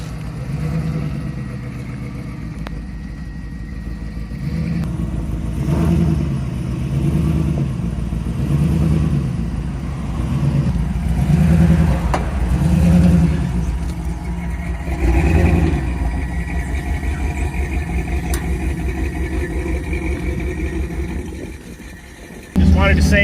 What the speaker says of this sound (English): We are out on the trails. Tires are spinning, moving forward.